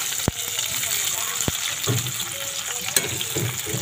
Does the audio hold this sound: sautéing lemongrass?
yes